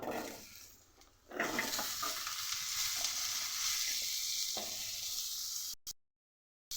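Potatoes fry in oil in a kadai with turmeric and salt, a loud, close, continuous sizzle that swells after a quieter start, with stirring scrapes, then cuts off near the end.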